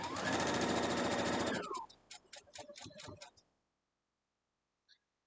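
A sewing machine stitches small fabric pieces close up, running in a steady burst and then slowing into a few separate ticking stitches before stopping, with a voice briefly speaking.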